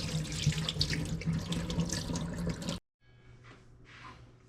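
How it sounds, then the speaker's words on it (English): Tap water runs into a sink as rice is washed, a steady close splashing stream that cuts off abruptly, followed by softer trickling and dripping. "so we're gonna wash the rice and throw it in a pot to boil"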